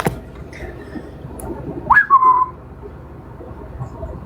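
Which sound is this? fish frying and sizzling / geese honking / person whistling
person whistling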